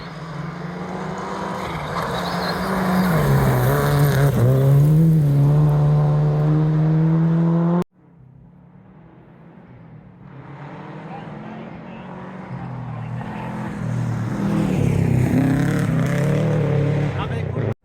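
A rally car races along a forest stage, its engine droning loudly and rising in pitch, then cutting off abruptly before building again as it passes nearby. Voices are heard over the engine.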